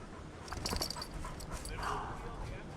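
Hunting dog in a field during a pheasant hunt, close quick panting and small whimpers mixed with rustling, with a voice speaking briefly.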